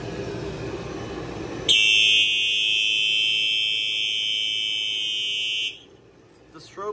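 A Simplex fire alarm pull station sounds during a fire alarm system test: a loud, piercing continuous electronic tone starts abruptly, holds for about four seconds, then cuts off, with a brief voice just before it.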